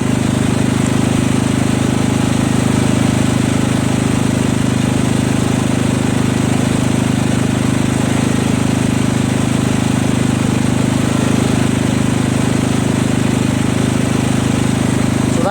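A Kohler Command CV460S single-cylinder engine on a Craftsman LT1000 lawn tractor runs at full throttle, a loud, close, steady buzzing roar with a fast chattering pulse that holds constant without change.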